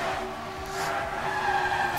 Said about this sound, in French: c'est là on a un autre drift de Magnette je crois